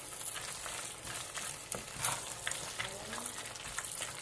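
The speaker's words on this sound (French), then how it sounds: "Voilà, donc je remue tout ça." Butter and grated parmesan get stirred into asparagus risotto in a hot pan, with a soft continuous sizzle and quiet scraping strokes of the spoon, close and unhurried.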